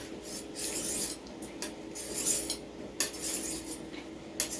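A kitchen knife being sharpened, its blade rasping in repeated scraping strokes with a metallic edge, steady and close with short gaps between passes and no voices.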